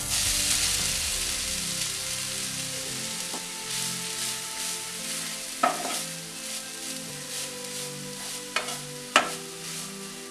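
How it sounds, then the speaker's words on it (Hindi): Ground grated coconut is stirred and dry-roasted in a hot pan over a medium flame for coconut burfi, a steady soft sizzle and scraping with occasional sharper knocks of the spatula on the pan. "इसे इस तरीके से मीडियम फ्लेम पर 3 से 4 मिनट लगातार चलाते हुए भूंज लेंगे"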